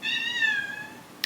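A house cat gives a single clear meow that slides slightly downward, close and fairly loud, then ends with a short soft tap.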